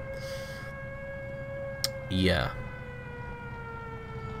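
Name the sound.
air raid sirens in the video game War Thunder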